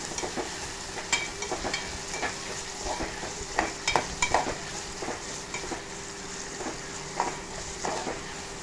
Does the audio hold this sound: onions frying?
yes